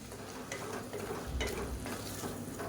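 Mutton and potatoes sauté with yogurt in a pan, giving a soft, low sizzle with a few scraping stirs, quiet and close with no voices over it.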